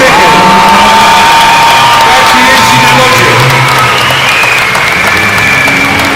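A crowd at an ice hockey match between artists and rally drivers in Tychy applauds, cheers and whoops continuously and loudly, while an announcer speaks over the noise.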